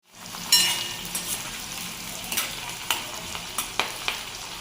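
Sliced onions and green chilies frying in oil for a pumpkin curry, a steady close sizzle broken by sharp scraping stirs of a spoon in the pan.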